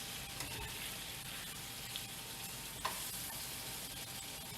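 Apples sizzle steadily in a hot pan with pork marinade, a constant bright frying hiss under occasional soft scrapes and clinks as they are stirred.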